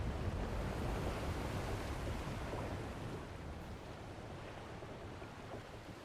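Steady broadband rush of water in a Final Fantasy XIV game scene, continuous and fairly loud, easing slightly after a few seconds with no voices.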